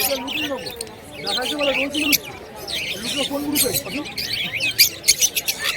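Harsh squawks and shrill chirps from several sun conure parrots at a bird market overlap with someone talking close by, the calls growing louder and choppier toward the end.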